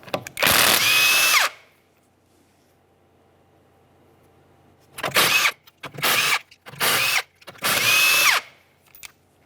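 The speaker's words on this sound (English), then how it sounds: "we're going to remove the wheel by removing all 5 of our 19mm lug nuts" An impact power tool spins off the 19mm lug nuts on the rear wheel of a 2012-2015 Honda Civic, loud close whirring bursts, one long run, then a pause, then four quick runs in succession.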